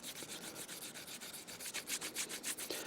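Compound being rubbed onto a leather strop, a soft, steady scrubbing with rhythmic back-and-forth strokes that grow slightly stronger toward the end, faint and close, with no voices.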